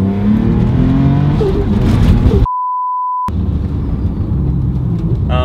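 A supercharged Mini engine running on ethanol revs hard, a loud, close rumbling roar with rising pitch, cut by a second-long censor beep in the middle before the engine noise resumes.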